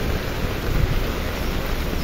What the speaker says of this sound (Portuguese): Muita chuva.